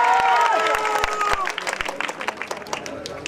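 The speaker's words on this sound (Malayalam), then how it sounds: "പള്ളിച്ചട്ടമ്പി ഇഷ്ടപ്പെട്ടെങ്കിൽ നല്ലൊരു കൈയടിയോടെ നമുക്ക് തുടങ്ങാം." Audience in a cinema hall applauding, with scattered sharp claps and a crowd murmur over the whole short stretch, loudest at the start and thinning slightly toward the end.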